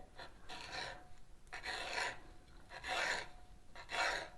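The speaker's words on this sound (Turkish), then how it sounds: "Şöyle bütün peynirlerimi böyle kesiyorum." A knife slicing a block of white cheese into small pieces on a board, with four separate rasping strokes in a steady rhythm. The cutting is close and moderately loud, and no one speaks over it.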